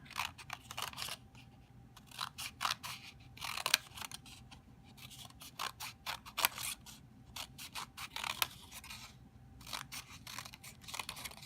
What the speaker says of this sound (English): I'm going to cut from the fold to the stop line